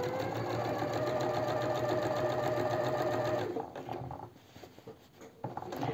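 A sewing machine runs steadily for a few seconds, stitching the facing seam of a girl's jacket, then slows and stops with small clicks and handling of fabric.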